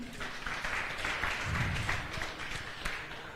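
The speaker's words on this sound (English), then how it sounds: "Clap yourself now, man." Audience applause at the Universal Service Fund TAP2 closing ceremony, a moderately distant, steady patter of many hands with light murmuring beneath.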